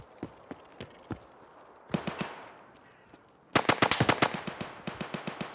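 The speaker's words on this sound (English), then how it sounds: "Pistol's going off." Pistol fire rings out in Escape From Tarkov, starting as a few spaced single shots, then a short cluster, then a long rapid string of sharp cracks, all at moderate distance with no talking.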